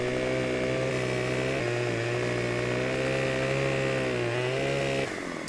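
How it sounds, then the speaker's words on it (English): Chainsaw in Farming Simulator 17 runs steadily at high revs, a loud continuous buzzing drone with a slight pitch shift partway through, then cuts off abruptly near the end. "that sounds like a good chainsaw"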